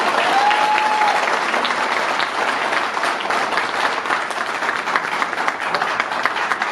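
A dense, sustained burst of audience applause at a health talk, many hands clapping steadily and loudly throughout, with a brief faint tone near the start.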